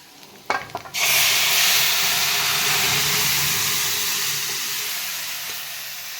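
Spices for a brinjal curry hit hot oil in a pan with a sudden loud sizzle after a few clinks, the tempering hiss staying strong and then slowly easing off.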